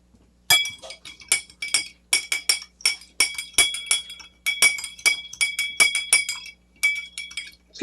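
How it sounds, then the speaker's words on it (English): A spoon stirs a rye cocktail in a glass, giving a steady run of bright ringing clinks and taps in quick rhythmic bursts, close and clear with no talking. "And then we are going to stir."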